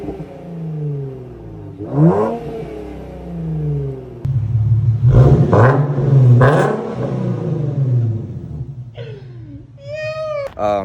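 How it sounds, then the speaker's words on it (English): A car engine with a muffler delete revs several times, its loud rumble rising and falling in pitch between bursts. "I'll drop a video of what my car sounds like with just a muffler delete"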